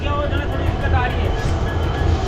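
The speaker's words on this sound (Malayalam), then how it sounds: "എൻ്റെ ട്രെയിൻ ഇപ്പോൾ ജയ്സൽമീർ എത്താനായി" A steady low rumble of a train arriving at Jaisalmer railway station, with faint rhythmic clatter, continuous and fairly loud throughout, with a high whine above it.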